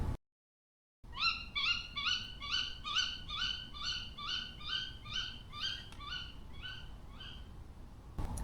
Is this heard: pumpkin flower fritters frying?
no